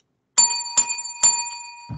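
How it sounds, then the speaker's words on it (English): Bell rung to close a wrestling podcast: three quick bright metallic dings with ringing overtones that linger, close and loud, ending with a soft thump. "There's the bell."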